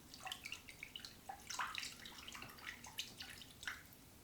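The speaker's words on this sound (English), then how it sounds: "And I'm just going to swish them around." Green leafy sprouts are swished around in a bowl of water, giving soft, irregular splashes and drips that come and go throughout, close and fairly quiet.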